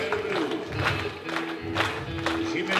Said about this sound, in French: Je vais demander des applaudissements pour le plus grand guitariste.